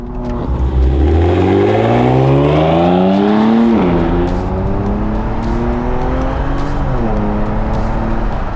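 A BMW G87 M2 on a race track on its first laps accelerates hard through the gears from inside the cabin, its engine note climbing in loud rising sweeps with a sharp drop at each upshift.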